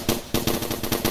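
Gunfire from a video game weapon shooting at targets, a loud rapid string of shots in quick succession, close and dominant with no talk.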